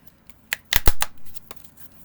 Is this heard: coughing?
no